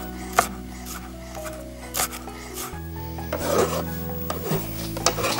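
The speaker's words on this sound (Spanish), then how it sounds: "vamos a picar un par de chalotitas suficiente" A knife chops a couple of shallots on a board, making scattered, soft scraping cuts at an uneven pace, quiet and close, with no talk.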